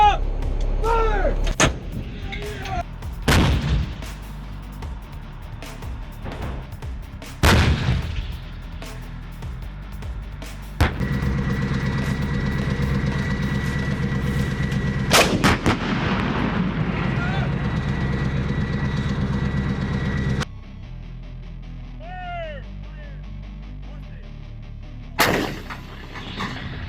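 Artillery guns fire in a series of heavy, booming blasts, several close and loud with long rumbling decay, while shouted commands and voices come through between shots.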